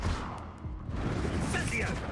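Confringo blasting spell cast in the video game Hogwarts Legacy, a dense crackling burst of magic blasts filling the short moment, loud and close, with a voice shouting spell names over the noise.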